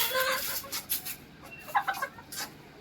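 Hens on a farm cluck at feed time in soft scattered bursts, fairly faint at moderate distance, with no voices.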